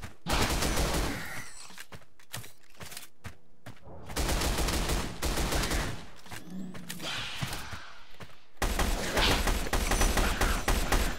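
Dense bursts of rapid gunfire from the video game ORION: Dino Beatdown, loud and close, coming in several long volleys with short gaps between them.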